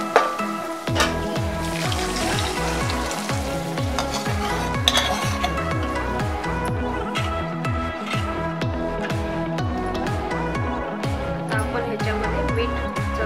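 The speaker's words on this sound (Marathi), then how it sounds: "आता आपण ह्याच्यामध्ये डाळ ओतून घ्यायचं।" A spoon stirs dal poured into a hot spiced tempering with chilli powder in a pan, giving a rhythmic, repeated scraping and clinking over a soft sizzle, close and loud throughout.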